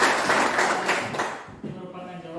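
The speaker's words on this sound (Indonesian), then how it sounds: "Tepuk tangan." Students in a classroom clap together in a short burst of applause that fades out within about a second and a half, followed by a teacher beginning to speak.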